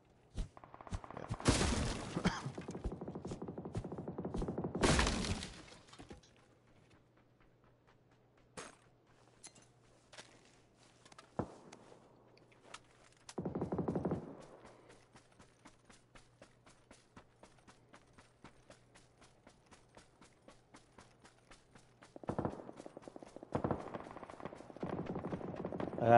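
Gunshots ring out in PUBG, loud sharp bursts at the start, then isolated single cracks and a later volley, set against quiet stretches and some movement noise, with no talking.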